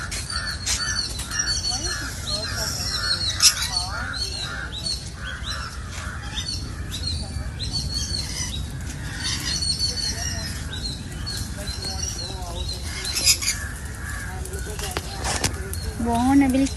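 A rainbow parrot at Guindy National Park gives harsh, repeated squawks close by, over a busy background with a voice speaking.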